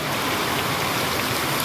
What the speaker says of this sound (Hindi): ये पानी का बहाव है जो बढ़ता जा रहा है